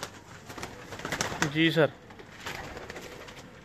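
Teddy pigeons give a soft cooing call at close range, one rolling coo in the middle of rustling and light scuffling, with someone speaking briefly.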